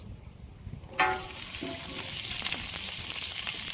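Onions and fennel seeds drop into hot oil for beef head curry: a few clinks, then a sudden loud, steady sizzle that keeps going, close up, with no talking.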